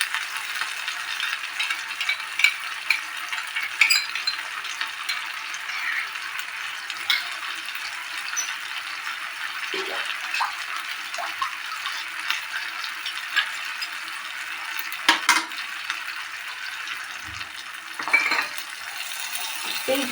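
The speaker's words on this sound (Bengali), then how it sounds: "এইটা দিয়ে বন্ধুরা আমি ভালো করে মিক্স করে নেবো, কিন্তু বেশিক্ষণ কষবো না" Poppy seed and cashew paste being stirred into oily frying masala for an echor chingri curry: a soft continuous sizzle with scattered scraping clicks of the spoon against the pan.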